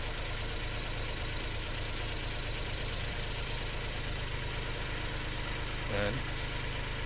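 A Suzuki DA64 minivan engine idling after a coil pack fix for misfire, a steady low drone running evenly throughout, with a short bump near the end.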